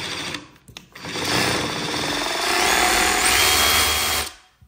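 A DEWALT DCH133B 20V Max XR brushless D-handle rotary hammer drill runs in hammer drill mode, a loud continuous buzzing, rattling drone close by that holds for a few seconds before cutting off.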